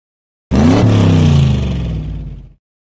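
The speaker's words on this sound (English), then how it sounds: "Jump on the table to avoid toy cars." Toy cars zooming past in a Curious George secret agent video game, a loud synthetic engine whir that swells in abruptly and fades out over about two seconds, with no voices.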